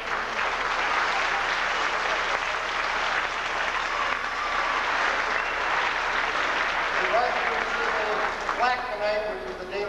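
Sustained applause from an audience at the Mather High School spring music festival concert fills the hall, steady and fairly loud, fading toward the end as someone speaks.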